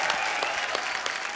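A short burst of steady studio audience applause on a comedy talk show, many hands clapping loudly and evenly throughout.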